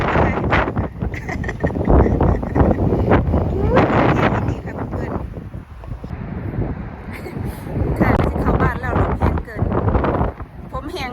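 Strong cold wind blowing outdoors before snow returns, a steady loud roar of gusts buffeting the microphone for the whole stretch, with someone talking over it.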